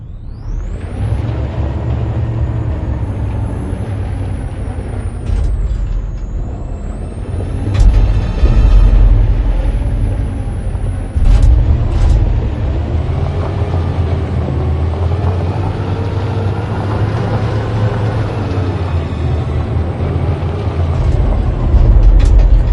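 A truck drives in the video game Detroit with a loud, continuous low engine rumble, hissing bursts like air brakes and rising whines layered on top, running unbroken for over twenty seconds without voices.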